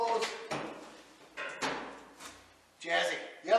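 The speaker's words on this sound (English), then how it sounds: "door has clearance to open and close" A few clunks and knocks of a small metal underbody toolbox door swinging open and shut, close by, with someone talking over it.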